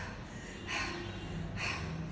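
A voice imitates panting for breath, two sharp, breathy gasps about a second apart, close and fairly loud.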